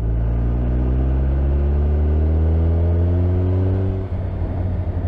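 A Suzuki Hayabusa motorcycle pulls from about 1800 rpm in sixth gear, a deep, loud engine drone rising slowly and steadily in pitch, then breaking off into rougher rumble near the end.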